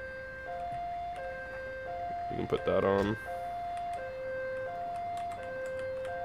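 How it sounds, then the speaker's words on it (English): A wailing electronic ambulance siren in a video game cycles between two tones throughout, with a brief burst of talk and clatter in the middle, steady and fairly close. "There's also a custom siren on the ambulance."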